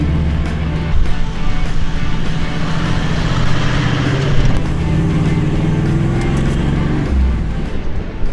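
A 4WD drives along the sand of 75 Mile Beach on Fraser Island, its engine a steady, loud, close rumble with continuous wind and tyre roar, without pause or speech.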